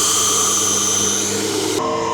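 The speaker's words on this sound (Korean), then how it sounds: "방금은 사포질하는 거예요?" Steady whirring power-tool drone of sanding a wooden baseball bat, running continuously with a brief shift in pitch near the end.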